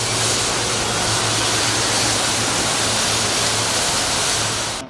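Heavy rain pours in Kerala's Kozhikode district, a dense, even roar of downpour that stays steady and loud throughout with no voices.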